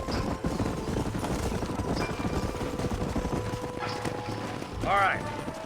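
Horses' hooves clop in a steady trotting rhythm in the video game Red Dead Redemption, close and continuous, with a horse's whinny rising near the end.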